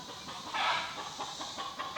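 A rooster on a homestead clucks in a run of short, scratchy bursts during a chase, with one louder outburst early on and quieter calls after it, heard at middle distance.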